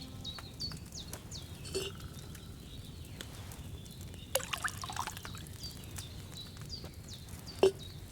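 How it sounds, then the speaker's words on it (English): Wine poured into a cauldron in Kingdom Come: Deliverance II, heard as faint trickling and dripping with a few soft splashy drips over a low ambient bed, with birdsong chirping in the background. "what did you pour in there? Wine, of course."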